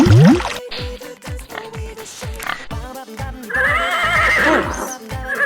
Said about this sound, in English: The horse pulls heavy things.